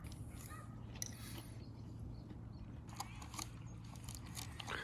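Crunchy bites and chewing of air-fried chicken sound up close, a few crisp crackles scattered over a quiet, slightly noisy background at an RV park.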